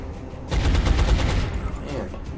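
A burst of rapid automatic gunfire rips out in the strategy game XCOM, a dense, loud, close volley of overlapping shots lasting about two seconds before trailing off.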